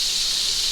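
Cod roe frying in avocado oil with a little butter gives a steady, bright hiss that holds evenly through the short moment, with no talk over it.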